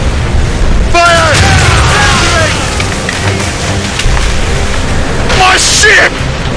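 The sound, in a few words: naval cannon fire from the video game Assassin's Creed Rogue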